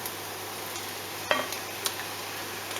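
Sweet red and yellow peppers go into a pan of browned onions, and a quiet steady sizzle runs throughout, broken by a couple of soft clinks of a utensil against the pan.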